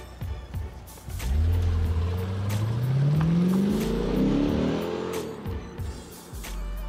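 A Lexus IS engine gives a deep, rising growl as the car accelerates hard, its pitch climbing steadily for several seconds, loud and close, with no talk over it.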